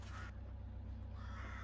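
Crows and ravens caw at a sports field, distant and faint amid steady outdoor background noise.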